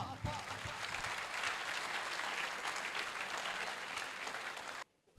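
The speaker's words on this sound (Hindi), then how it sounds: "भरपूर तालियों में इस्तकबाल कीजिएगा" Steady applause from a mushaira audience in Sargodha welcoming a poet to the stage, dense and sustained for about five seconds before cutting off abruptly near the end.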